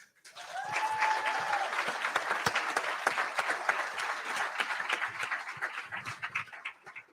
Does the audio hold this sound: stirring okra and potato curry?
no